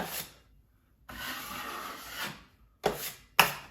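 A drywall knife scrapes joint compound smooth over a patched wall in a few separate soft rasping strokes, with short pauses between them and two sharper taps toward the end.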